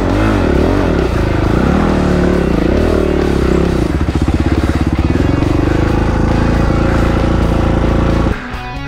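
Kawasaki KX450F dirt bike engine droning loud and steady, with revving shifts in pitch and a rapid rattling pulse in the middle as the bike rides off, then cutting to a quieter idle-like tone near the end; no talk.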